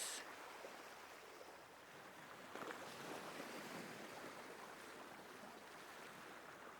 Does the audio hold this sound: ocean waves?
yes